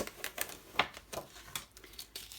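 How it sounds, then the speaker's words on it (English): Metallic foil peeled off a shim with washi tape, a series of short crackly rustles and small ticks, faint and close, coming in quick irregular bursts. "Just taking the foil off."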